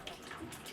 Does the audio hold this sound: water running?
yes